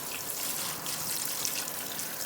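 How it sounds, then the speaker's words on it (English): Cold tap water pours over boiled potatoes in a colander, a soft continuous hissing splash with light trickling, fairly quiet and steady, with no talk. "we want to rinse these off quickly with cold water."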